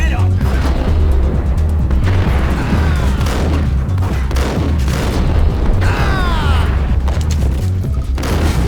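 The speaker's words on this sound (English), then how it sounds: "Shotguns to the face are a bitch." Heavy gunfire and explosive booms in the Max Payne video game, including shotgun blasts, keep hitting in loud, dense bursts over a constant low rumble, with clattering mechanical effects between them.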